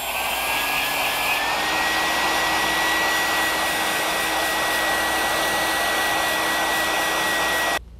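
A hair dryer blowing steadily at close range to dry primer on a plastic butter tub, loud and continuous before switching off at the end.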